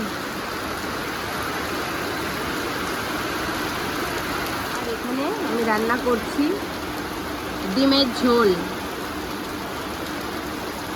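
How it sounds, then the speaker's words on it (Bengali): Steady rain hisses as a constant wash of noise, with a person talking briefly over it. "তো বৃষ্টি হচ্ছে"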